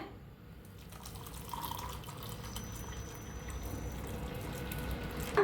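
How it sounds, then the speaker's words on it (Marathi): Freshly made watermelon juice with soaked chia seeds poured into a container, a continuous soft liquid splashing and trickling that stays fairly quiet and alone, swelling slightly toward the end. "आपल्याला ज्यूस ओतूया"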